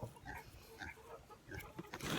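A potbelly pig grunts and squeals in a busy, uneven run of calls after being fed, fairly close and continuing throughout with no talk over it.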